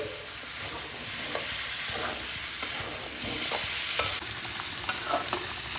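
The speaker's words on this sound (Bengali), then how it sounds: "এবার আমি ভেজে রাখা আলু আর ডাঁটাটা এর মধ্যে দিয়ে দিচ্ছি। মশলার সঙ্গে ভালোভাবে মিশিয়ে নিচ্ছি।" Fried potatoes and drumsticks are stirred into a sizzling spice mix of oil and masala in a pan, with a constant loud sizzle overlaid by close, repeated scraping and stirring strokes, no talking.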